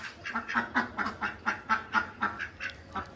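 A pet duck, bought from a market and kept in a small water tank at home, quacks repeatedly in a steady series of about a dozen close, moderately loud calls with no talking.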